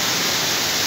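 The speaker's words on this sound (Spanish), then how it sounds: "luego de esta hermosa caída, el río baja" Machay waterfall and river pouring over large rocks near Baños, Ecuador, a constant dense hiss of rushing water, loud and steady with no voices.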